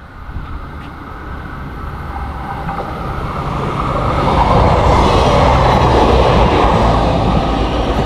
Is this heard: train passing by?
yes